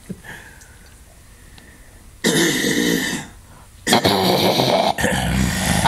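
Subharmonic bass singing with the false vocal folds vibrating, producing two loud, rough, growling bursts, a long one followed by a shorter pair, near and alone after a quiet start.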